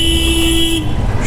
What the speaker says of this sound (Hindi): यहाँ पे इसका बहुत क्राउड रहता है, ट्रैफिक रहता है